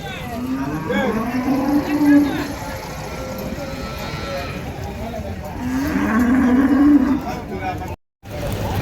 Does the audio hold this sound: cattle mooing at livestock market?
yes